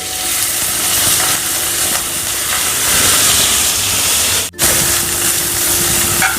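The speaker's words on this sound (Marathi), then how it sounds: "आता पॅनमध्ये अजून थोडंसं तेल टाकून घेते कारले टाकते" Bitter gourd pieces fry in hot oil in a pan, giving a loud, steady, broad hiss close up that cuts out for a split second before resuming.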